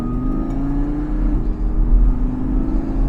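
Audi R8 V10 Performance Quattro Spyder with its V10 engine and 7-speed S-tronic twin-clutch gearbox, a steady, deep engine drone with a low rumble and a slight rise in pitch, heard from inside the car.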